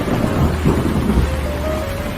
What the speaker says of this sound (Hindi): गांव में अचानक तूफानी बारिशें शुरू हो गई